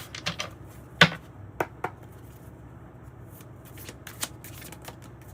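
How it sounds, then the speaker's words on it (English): A deck of tarot cards is shuffled by hand in a quiet room, giving crisp riffling bursts and sharp snapping flicks at an uneven pace, with one loud slap near the start. "Keep seeing the acceptance card, like radical acceptance for what is."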